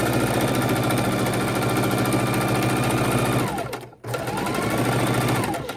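A sewing machine stitches steadily through five layers of heavy canvas for a tote bag, a loud continuous mechanical whir that cuts out briefly near the end before resuming.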